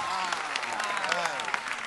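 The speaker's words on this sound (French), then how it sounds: "on peut applaudir." Steady audience applause from a room of conference attendees, a dense wash of clapping at moderate level with some voices audible beneath it, lasting the full couple of seconds.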